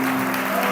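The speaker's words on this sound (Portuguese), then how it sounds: "Vamos aplaudir o Senhor" A brief, steady burst of congregational clapping during a Pentecostal celebration service at an Assembly of God church, with a sustained musical tone faintly underneath.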